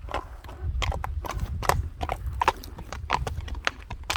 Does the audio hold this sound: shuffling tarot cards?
no